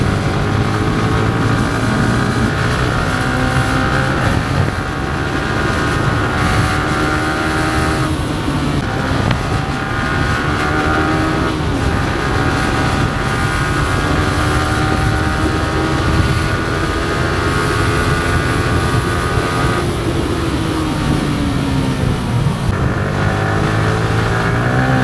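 A Yamaha R15 motorcycle engine, 2025 model, revved with the throttle while riding, giving a loud, continuous drone whose pitch climbs and falls repeatedly over about 25 seconds.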